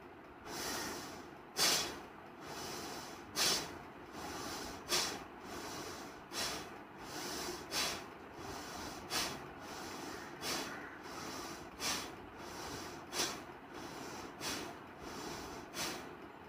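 Forceful bhastrika pranayama yoga breathing, with rhythmic rapid puffs of breath through the nose repeating roughly every second, faint and steady with no talk over them.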